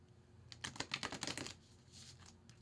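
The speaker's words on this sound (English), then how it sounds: "Shuffle these 3 times." A deck of tarot oracle cards being shuffled, a quick flurry of soft crisp card riffles and taps lasting about a second, close and quiet, followed by faint handling noise.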